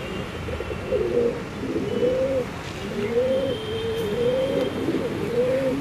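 A black pigeon coos in a repeated series of soft, rolling calls at close range, steady and rhythmic, with faint outdoor ambience behind it and no talking.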